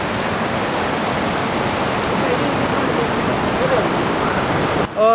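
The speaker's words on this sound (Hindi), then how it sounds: "बड़े जोर शोर से बह रहा है दरिया" The Neelam River rushes near Kohala Bridge, a loud, steady wash of broadband water noise throughout, cut by a sharp tonal sound in the last half second.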